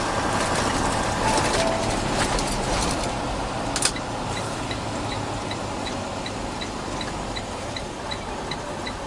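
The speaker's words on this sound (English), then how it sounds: "There goes my new truck." A pickup truck rumbles past at moderate distance, a steady broadband road noise with a faint rhythmic ticking underneath, no talking.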